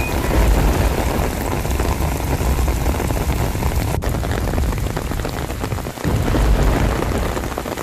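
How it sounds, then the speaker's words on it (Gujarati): A heavy downpour is driven by strong wind in Gujarat, making a dense, loud, constant roar of rain pounding surfaces with low rumbling gusts and no talking. "ભારે પવન સાથે ધોધમાર વરસાદ."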